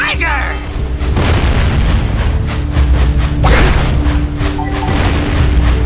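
Metal boxes bursting from a bomb in the Jak and Daxter video game, with several deep booms and bangs over game music and a talking voice.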